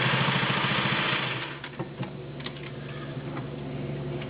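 An all-metal gear-drive Singer 603E sewing machine stitches through five layers of upholstery fabric, giving a rapid, steady mechanical chatter at first that slows into separate, heavier clicks and thumps, close and loud with no one speaking.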